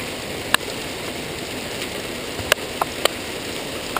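Pea-size hail pouring down during a thunderstorm in Lake Elsinore, a steady dense hiss of stones striking the ground with a few sharper clicks standing out near the microphone.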